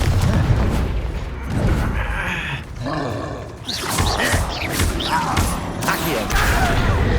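A Confringo fire spell from Hogwarts Legacy bursts in a series of booming blasts and crackles, with roaring whooshes and shifting game effects throughout at close, loud level.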